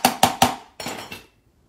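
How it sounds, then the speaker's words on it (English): Hammer tapping a metal bracelet blank with the protective plastic still on: three quick, evenly spaced ringing metallic taps, then a softer, duller knock that trails into silence. "You're going to take your hammer, give it a couple of nice taps"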